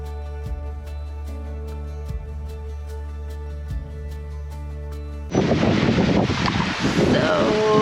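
Wind gusts roar into the microphone on a sailboat at sea. The first part is steady, low, tonal noise with a few soft thumps, and then a sudden loud blast of broadband wind buffeting takes over.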